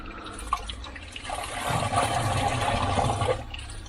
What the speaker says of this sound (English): that's the water that's coming out of it, so that's why you have to flush them through